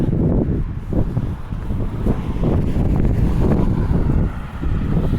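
Gusty wind blows steadily across the microphone on an outdoor walk through the Halifax Public Gardens, a loud low rumble that surges and eases throughout with no one speaking.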